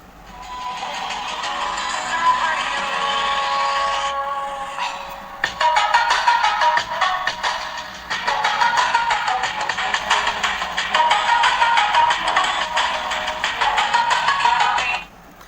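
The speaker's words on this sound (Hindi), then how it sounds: "अभी हम इसमें सॉन्ग प्ले करेंगे।" Song streamed by Bluetooth from a phone through a repaired amplifier, with one 8-inch speaker on each of its two channels and a worn 6-amp battery, playing loud and continuous with brief breaks, no talking.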